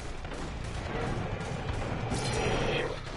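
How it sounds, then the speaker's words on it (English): Gunfire in the video game Infamous Second Son sounds as a dense, continuous crackle of shots and crashes amid loud game noise, fairly close, with no clear voice. "I hear a lot of gunfire, but they're never hitting me"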